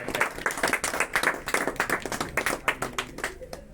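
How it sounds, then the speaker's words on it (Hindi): Lively applause from a small group at a local welcoming ceremony, quick irregular claps running steadily for a few seconds with no talking over it. "तालियों में कमी नहीं आनी चाहिए"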